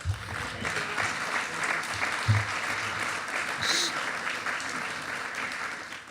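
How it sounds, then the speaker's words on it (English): Steady applause from an audience at a Korean War anniversary evening held at the Marines Memorial Club, a continuous dense clapping wash lasting about six seconds with faint voices underneath. "So a special round of applause."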